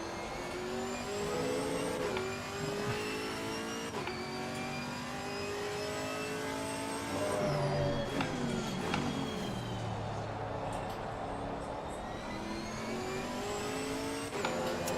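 Racing car engines in Assetto Corsa Competizione at Donington Park roar and rev continuously, rising and falling through gear shifts, loud and close with no talk.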